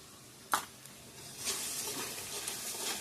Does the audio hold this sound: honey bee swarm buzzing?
no